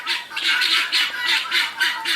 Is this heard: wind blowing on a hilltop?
no